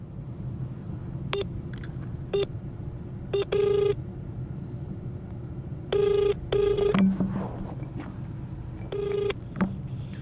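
A telephone call rings out on the line, with short tone bursts repeating every couple of seconds over a low background hum, and no one speaking.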